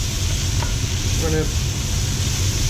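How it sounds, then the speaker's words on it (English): Chopped vegetables sweating in a pan for a beef daube, giving a steady, dense sizzle close up, with a faint scrape of stirring partway through and no talking. "Now we're going to let those cook, and we're going to stir them occasionally."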